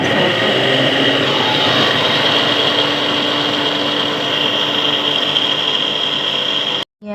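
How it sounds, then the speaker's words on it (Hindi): An electric grinder whirs loud and steady as it grinds chickpeas, almonds, fennel seeds and sugar, a continuous high motor whine with grinding rattle, cutting off abruptly near the end. "अभी हम इनको करेंगे ग्राइंड मशीन"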